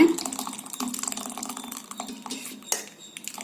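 Water drained from cooked toor dal (pigeon pea lentils) pours and splashes into a cup amid clinking of a pot and utensils, close by and steady for a few seconds.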